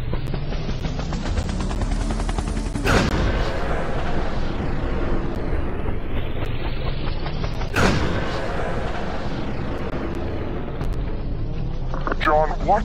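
Sniper fire cracks in the video game Overkill 3, two heavy booming shots about five seconds apart over a low mechanical droning background.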